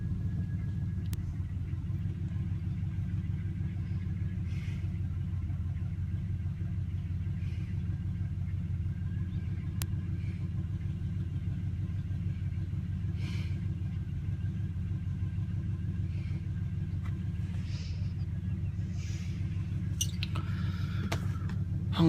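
An old 1971 Oldsmobile car engine idles with a low, steady rumble throughout, joined by occasional faint clicks and light rattles.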